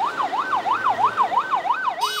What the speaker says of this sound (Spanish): A eso de las 5:30 de la tarde, la ambulancia regresa del Instituto de Medicina Legal en Managua al cementerio municipal de Estelí con los cuerpos de Orlando y Franco.